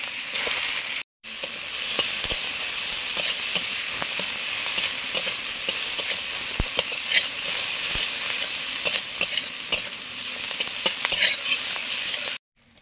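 Dry red chillies, whole cumin and chopped onion frying in hot oil in a pan, a continuous loud sizzle with occasional stirring scrapes and pops, no talking.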